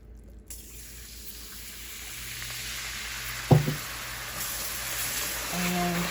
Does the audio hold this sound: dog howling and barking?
no